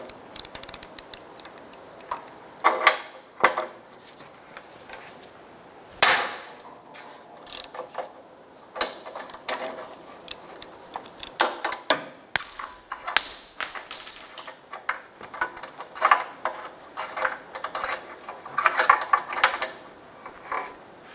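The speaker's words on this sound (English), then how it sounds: "Using a 22 millimeter wrench or O2 socket, remove the O2 sensor." Metal wrench or O2 socket clicking and ratcheting against a downstream O2 sensor under a 2012-2016 Subaru Impreza, with scattered taps and jangles and a brief bright metallic ringing burst midway.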